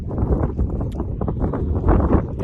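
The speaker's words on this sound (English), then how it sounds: "The wind is picking up a bit, but it's gusty." Gusty wind buffets an outdoor mud-fishing spot, a loud, close rumble surging and easing in uneven pulses.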